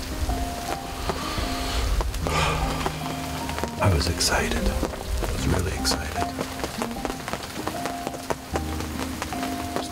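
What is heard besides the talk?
rain falling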